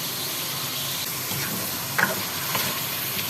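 Chicken pieces frying in butter and cooking oil in a karahi, a steady, even sizzle holding throughout with a couple of brief clinks near the end.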